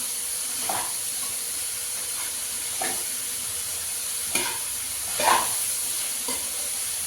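Potatoes and cluster beans cooking in a pot on a gas stove, a soft continuous hiss with a few scattered stirring clinks and scrapes, fairly quiet and with no talking.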